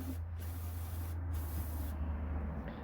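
A continuous brake cleaner aerosol spray hisses close by, cleaning LS engine crankshaft journals, broken by a few brief pauses, over a low steady hum.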